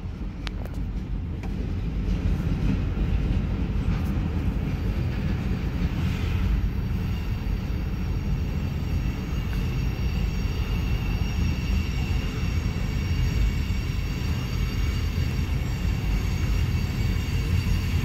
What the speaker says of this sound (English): this CSX train will continue on towards Queensgate Yard in Cincinnati